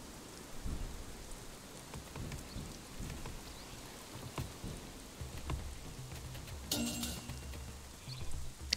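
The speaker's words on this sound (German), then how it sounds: "Oh fuck, Gewitter." Thunderstorm in the video game Northgard, with steady rain hiss, low rumbling thunder and one sharp crack partway through, continuous and fairly close.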